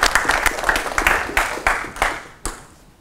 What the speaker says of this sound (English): it's a quick round of applause for the people organising it